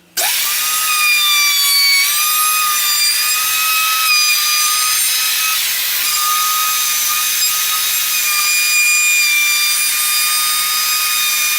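A wood router whines steadily at a high pitch for the whole stretch, rounding over the edges of a wooden paddle, starting abruptly and holding a nearly constant tone without any talking.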